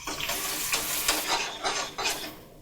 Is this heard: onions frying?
yes